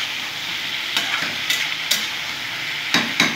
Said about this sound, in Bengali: তো ভালো করে আমি নাড়াচাড়া করে নেব নুন দিয়ে